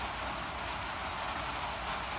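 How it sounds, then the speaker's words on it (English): Rain patters steadily on a tin roof, a dense, even hiss with no breaks and no voices. "I like the sound of the rain on the tin roof"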